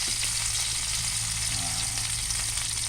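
Food frying in hot oil while cooking binogok: a steady, dense sizzle and crackle, close and continuous throughout, with no talking.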